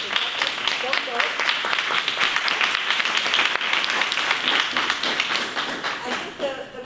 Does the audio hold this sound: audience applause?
yes